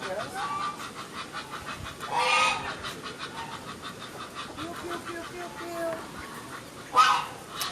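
A yellow-billed goose honks in short loud bursts, two prominent calls several seconds apart over a busy background of other fowl clucking and a rhythmic mechanical hum.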